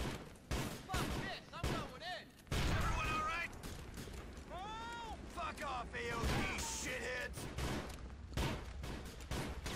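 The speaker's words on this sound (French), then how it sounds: "je vais tirer sur mes potes" Rapid bursts of gunfire in GTA V as the player shoots at a biker gang, sharp repeated cracks mixed with game effects and shouted voices underneath.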